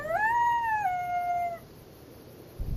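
A dog howls in Fallout New Vegas: a single clear, sustained howl that rises and then drops in pitch before fading out, with quiet ambience after.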